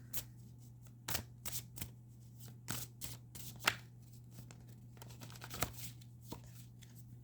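A deck of astrology oracle cards is shuffled close by, producing soft, quiet riffling and flicking bursts at an uneven pace over a low steady hum.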